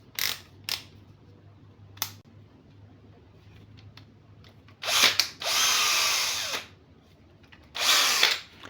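A Bosch GSB 180-LI cordless impact drill whirs in several short bursts, the longest lasting a couple of seconds, with a few quick trigger clicks between them; no talking.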